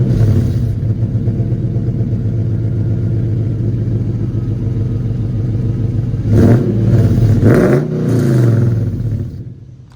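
A car engine idles steadily and loudly throughout, a low rumbling drone with a brief surge and some clatter near the end, alongside an ARB twin on-board air compressor setup.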